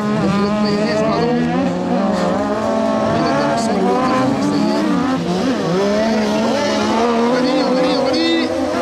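Rally cars on a women's sprint race stage at Les Cresnays roar past one after another, engines rising and falling in pitch with tire noise, loud and close, with commentary speech over them.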